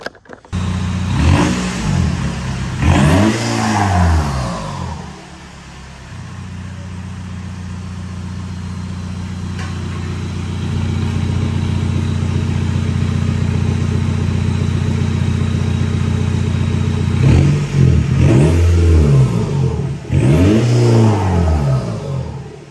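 Close and loud, the diesel engine of a VW Jetta TDI ALH with an 8-inch exhaust stack revs in rising and falling bursts, then settles to a deep, steady idle before revving again.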